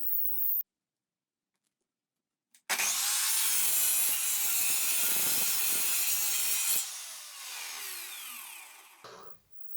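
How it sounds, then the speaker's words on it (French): Hand sawing through wood after a brief pause: rapid, rough rasping strokes blend into one continuous grinding rush that fades and stops near the end. "c'est parti, casque, et on scie."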